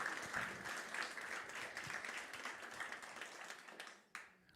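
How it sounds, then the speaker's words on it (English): A fashion show audience applauding continuously, a dense wash of many hands clapping at moderate distance that carries on steadily before a brief dip and a final burst. "keep the rounds of applause going"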